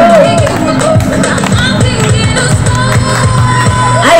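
A crowd at a lively party game claps and cheers loudly throughout, with steady handclaps mixed with shouts and whoops close by.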